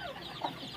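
Country chickens on a small farm, a single short soft cluck at middle distance over a quiet background hiss.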